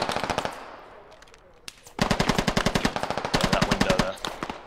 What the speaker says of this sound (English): we're going hit fire room clearing with the 240 Bravo.